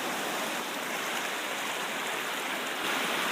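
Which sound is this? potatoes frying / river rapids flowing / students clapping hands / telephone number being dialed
river rapids flowing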